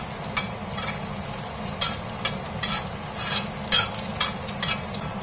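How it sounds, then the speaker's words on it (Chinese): Garlic sizzles in hot peanut oil in a heated wok, a steady frying hiss broken by repeated scraping strikes of a spatula as it is tossed, close and continuous. "热锅以后放入蒜米爆香"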